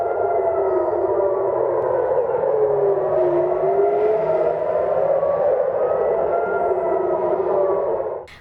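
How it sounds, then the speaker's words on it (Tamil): Air raid warning sirens across Israel wail, rising and falling steadily, sustained and loud throughout, with layered warbling tones and no voices. "இஸ்ரேல் முழுவதும் எச்சரிக்கை சைரன்கள் ஒலித்ததாகவும்"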